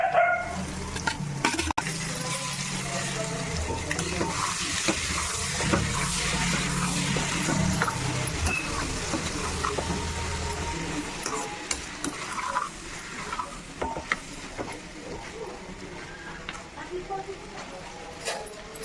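Goat tripe (boti) frying with onions in a pan and stirred, giving a sizzling hiss with clinks and scrapes of a utensil against the pan, while people talk over it throughout.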